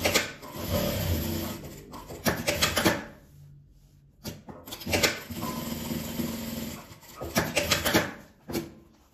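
A sewing machine stitching fabric and lining together in loud close bursts of rapid mechanical whirring, separated by short quiet pauses and fabric handling.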